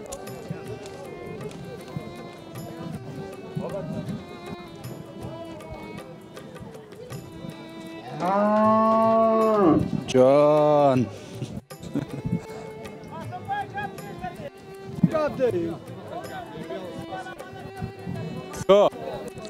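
Cattle at a busy livestock market moo in two long, loud, wavering calls close by, standing out from steady crowd chatter and market bustle, with people talking throughout.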